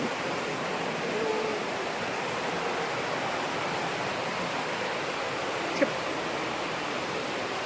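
A waterfall below a tented campsite in Mae Kampong village, Chiang Mai, gives a steady, even rushing roar that never lets up, with one faint click partway through.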